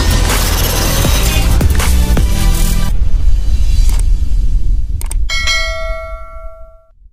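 A loud, bright bell rings as a notification sound effect, ending on a clear ringing tone that fades out. Rumbling, dense noise comes before it.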